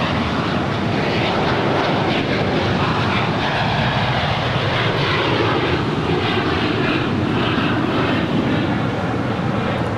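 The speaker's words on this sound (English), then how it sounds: "This is VistaJet Malta 785 off to Teterboro. It's a Bombardier Global" A Bombardier Global 7500 business jet takes off at LAX, its engines a loud, steady roar that holds throughout with no one speaking.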